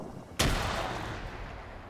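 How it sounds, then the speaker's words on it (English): A grenade goes off during a World War II–style Arma 3 battle: one sharp, loud blast near the start, followed by a long rumbling decay that fills the rest of the moment. "He throws a grenade up. It's a little short."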